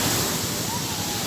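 Sea waves rush onto the shore in a brief, loud, continuous wash of surf.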